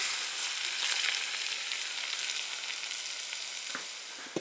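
Hot oil is poured over chili powder and sets off a steady, loud hissing sizzle that fades slowly, then a couple of small taps near the end.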